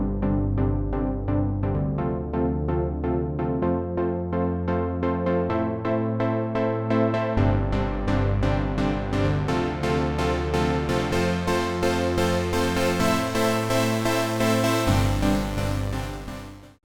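A basic, unarranged chord progression plays as sustained keyboard chords over a deep bass line. The chords change every couple of seconds and are struck repeatedly in a steady rhythm, loud and full for about seventeen seconds before cutting off.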